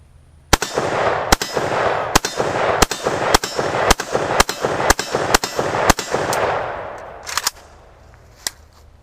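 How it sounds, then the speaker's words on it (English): An AK rifle fires about ten loud, close shots in a steady run, each sharp crack ringing out, followed by a pause and then two more isolated shots. "let's go ahead and fire a few rounds from this AK"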